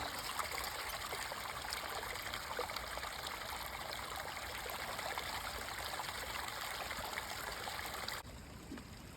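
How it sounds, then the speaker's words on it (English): Water trickles and splashes steadily close by through a camping water filter, a continuous gentle flow that drops away abruptly near the end. "So now he's filtering the water,"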